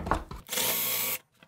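A power drill bores a hole into wood for a beer-crate standing table, giving one loud, close whirring burst of about half a second after some faint handling knocks, then stopping abruptly.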